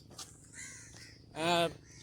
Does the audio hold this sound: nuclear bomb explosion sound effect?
no